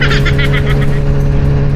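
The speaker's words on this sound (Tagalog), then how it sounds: "Friday ngayon, daming sasakyan." Road traffic with many vehicles on a cold Friday, heard from a moving motorcycle in the Philippines: a loud, close engine drone with steady low hum and pulsing midrange tones, no talking.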